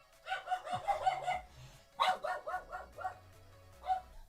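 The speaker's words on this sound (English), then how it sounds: "there goes my attack dog" A small poodle barks indoors in two bursts of quick, sharp, high yaps, close and loud, separated by a brief pause.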